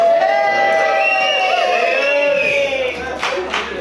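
Wedding guests at a reception burst into a loud, sustained crowd cheer with whoops after a toast, the roar swelling and then fading into scattered shouts and claps.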